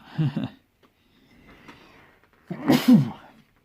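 Two sneezes, a smaller one at the start and a louder, sharper one near the end, with quiet breathing between them.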